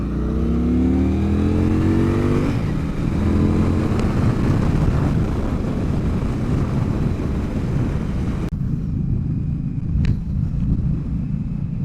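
A 2021 Indian Scout Bobber motorcycle accelerates hard on a four-lane road, its engine rising in pitch through a gear, then dropping into a loud, steady roar mixed with wind rush, with no talking.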